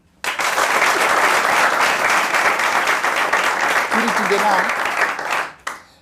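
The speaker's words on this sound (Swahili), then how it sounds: "Wapi makofi yake?" A campus audience greets a young professor with loud, sustained clapping that starts abruptly, holds strong for about five seconds with a brief voice heard partway through, then fades out.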